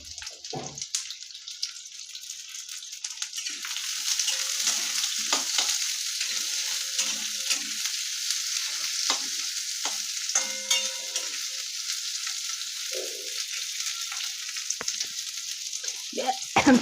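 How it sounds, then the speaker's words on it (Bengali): Onions fry in hot oil with tempered spices in a pan, giving a steady bright sizzle broken by repeated scraping stirs of a spoon, close and continuous with no talking. "পেঁয়াজগুলো একটু ভাজা ভাজা করে নিই।"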